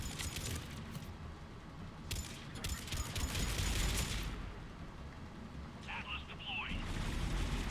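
Gunfire from James's weapon in the Mass Effect 3 video game, bursts of cracking shots over a busy battle background with a voice talking over it.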